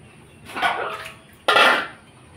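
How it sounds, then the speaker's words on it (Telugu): Milk poured out for an animal, two short close pouring splashes about a second apart, the second louder and more abrupt. "దానికి పాలు వేస్తాను, ఆగు."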